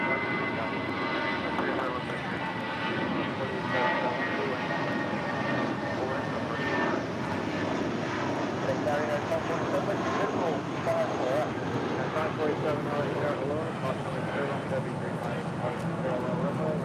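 An airliner departs from runway 25 right at an airport, a steady broad engine roar sustained throughout, with a person talking over it.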